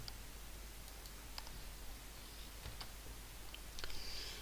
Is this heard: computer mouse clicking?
yes